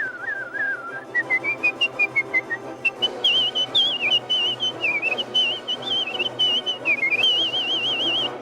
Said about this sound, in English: So you're whistling constantly just about for 4 minutes